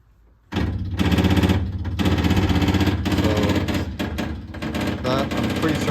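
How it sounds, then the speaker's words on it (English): Electric fuel pump on an MGB GT, sucking air as the ignition is switched on, gives a rapid, continuous mechanical clatter that starts abruptly after half a second and keeps going steadily, close and fairly loud. "I'm pretty certain there's a pump sucking air"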